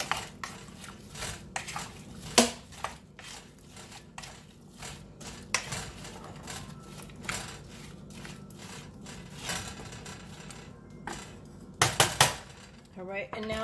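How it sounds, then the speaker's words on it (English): Chunky apple pieces stirred in shallow water in a pan, giving soft scraping and clinking of a utensil against the pan bottom, irregular and close, with sharper knocks now and then. "I'm just going to kind of stir this around a little bit."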